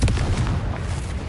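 Confringo explosion spell in Hogwarts Legacy goes off as a loud, close, rumbling blast that booms and rolls on for over a second.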